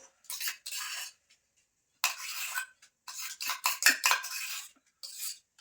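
A utensil stirs Eno into sponge cake batter in a bowl, several bursts of scraping and clinking against the bowl separated by short pauses, close and fairly quiet.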